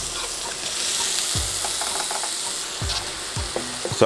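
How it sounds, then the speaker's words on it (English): Chopped onion sizzles steadily in hot olive oil in a pan over medium heat, a continuous close frying hiss with occasional stirring scrapes and clinks throughout, no talking. "Straight in with my onion."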